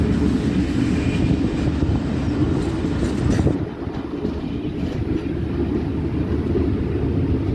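A passenger train pulls away and rolls steadily on its tracks, a loud continuous rumble with rail noise that dips briefly midway, heard from close by with no talking.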